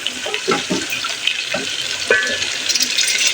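Meat for a kulfa saag curry hits a pot with a crackling fry, mixed with scraping stirs and a few wet spatters, close and fairly loud over a constant hiss.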